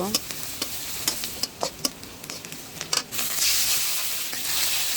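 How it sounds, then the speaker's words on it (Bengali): Onion, green chili, cinnamon and cardamom fry in hot oil in a kadai, a loud sizzle broken by repeated sharp stirring scrapes and clacks, building into a steadier hiss near the end. "দিয়ে দিলাম দারচিনি এলাচ পেঁয়াজ কুচি কাঁচামরিচ কুচি এবার ভালো করে আমি ভেজে নেব"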